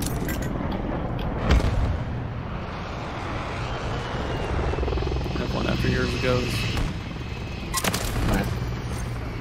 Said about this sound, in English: I also have a support helo going on right now.